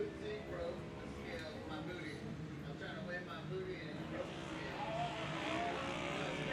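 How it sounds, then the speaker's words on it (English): An off-road race car runs on a dirt track during a Can-Am Outlaw Series event, its engine droning steadily at a distance beneath continuous announcer commentary. "Kendall Hawks cannot hear me inside his race car, but I think he's doing a fantastic job smoothing out his driving"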